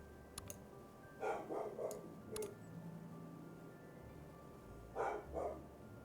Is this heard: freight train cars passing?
no